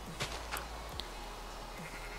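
A few short Minecraft sheep bleats sound over a steady low background hum, brief and moderately faint.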